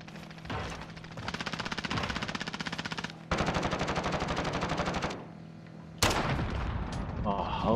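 Enemies in a video game fire guns out a window in long rapid machine-gun bursts, loud and close, broken by short pauses, with another burst starting near the end.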